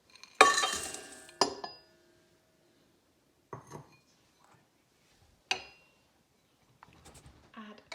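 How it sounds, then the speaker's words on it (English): Unsalted butter and icing sugar are worked together in a bowl for buttercream, giving a few separate scraping, clattering bursts of utensil against bowl with quiet pauses between them. "you need to put 150 grams of unsalted butter and 250 grams of icing sugar in a bowl and combine"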